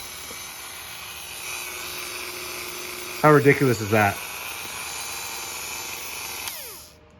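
A Dremel rotary tool's motor runs with a steady high-pitched whine throughout while its faulty switch is tested, with a short burst of speech over it, then the hum winds down and stops near the end.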